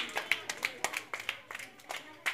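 Children clap their hands repeatedly in a quick, irregular rhythm at a preschool session, light sharp claps close by, with voices talking alongside.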